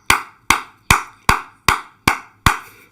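Loud close claps at a French-speaking church service, seven sharp evenly timed strikes in a slow steady beat with nothing else underneath.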